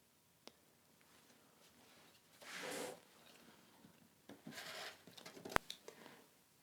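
A rotary cutter slices along a ruler through fabric for English paper piecing diamond shapes, giving two soft rasping strokes close by, with faint taps, rustles and a sharp click in a quiet room.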